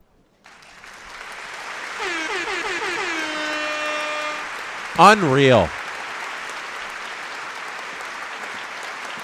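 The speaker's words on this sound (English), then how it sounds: "Round of applause for Vladdy." Crowd cheering and applause roll on after a Blue Jays home run in an ALCS playoff game against the Mariners, with a horn blast over the noise and a voice speaking briefly.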